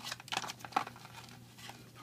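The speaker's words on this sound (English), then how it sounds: "I'm going to take this kit, I'm going to open it up. It's like a nice little clamshell." Plastic clamshell package of a drone kit being popped open by hand, giving short crinkly snaps and rustles with two sharper clicks, close and fairly quiet, no talking.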